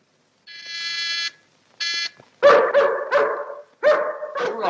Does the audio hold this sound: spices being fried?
no